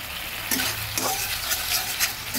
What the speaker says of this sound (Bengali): সব কিছু একসঙ্গে ভালোভাবে ভেজে নিচ্ছি।